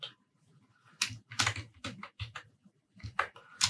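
Bursts of typing on a computer keyboard for entering data into an Excel spreadsheet, with irregular clusters of close, crisp key clicks separated by short pauses, and no talking.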